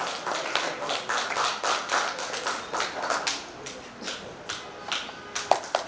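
Audience at a state school chess championship applauding in uneven bursts of clapping, several pulses rising and fading over a few seconds, fairly close, with a few scattered claps trailing at the end.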